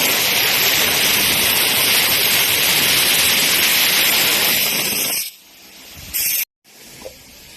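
A vacuum pump drawing out old, coffee-black gear oil, a loud steady rushing hiss that cuts off abruptly near the end, then a brief burst of suction and a short pause.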